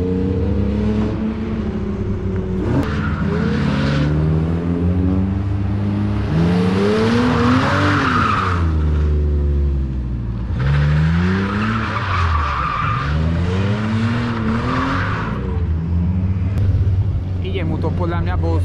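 A BMW E46 330i skids through a slalom course, its tires sliding and squealing while the engine revs rise and fall repeatedly, loud and close.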